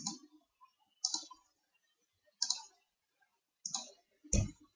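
A computer mouse gives five separate bursts of crisp clicks, spaced about a second apart in an otherwise quiet room, near and fairly soft.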